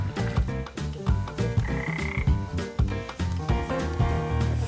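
Toads croak at night after rain during a field survey, a dense overlapping chorus of repeated rhythmic croaks close by and loud.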